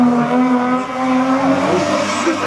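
A race car at a hill climb in Quettreville tears past close and loud, its engine note holding a steady high pitch with slight tire squeal, no talk over it.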